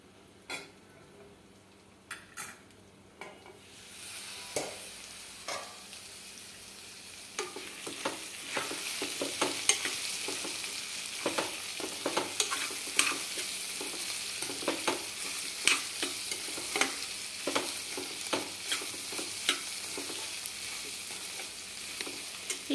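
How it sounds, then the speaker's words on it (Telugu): Vegetable pieces sizzle in a covered pan, a soft crackling fry that builds after a few seconds into steady popping and hissing, with occasional faint clinks. "ఇప్పుడు మూత పెట్టి ఒక 2 నిమిషాలు మగ్గనిద్దాము."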